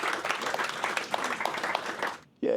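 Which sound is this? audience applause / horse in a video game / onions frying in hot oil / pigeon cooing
audience applause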